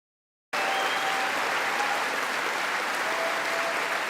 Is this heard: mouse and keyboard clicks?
no